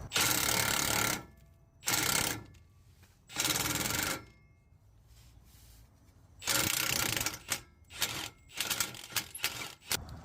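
Ratchet wrench backing out an exhaust bolt during catalytic converter replacement on a Hyundai Sonata, loud close clicking bursts in several separate runs with brief pauses, ending in quicker short ratchet strokes.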